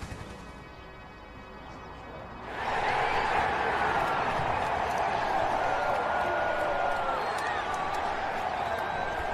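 A crowd at a courthouse trial scene swells into broad cheering partway through, a dense sustained roar that holds steady to the end after a quieter opening.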